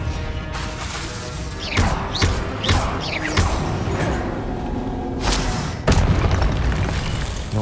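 A Confringo fire-spell explosion in Hogwarts Legacy: a string of heavy booming blasts and crashing impacts over a rumbling game soundscape, loud and close, with a sharp fresh burst near the end.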